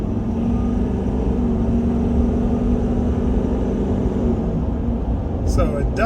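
Steady low engine drone from inside the cab of a 2022 Ford F350 Tremor pickup, accelerating hard from about 55 to 70 mph, with continuous road and wind roar and a faint rising engine tone, plus a brief rattle near the end.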